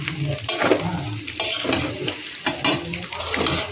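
An egg fries with a steady sizzle while a utensil stirs and scrapes it around a pan during the making of mixed chowmein, with repeated stirring strokes up close and no talking.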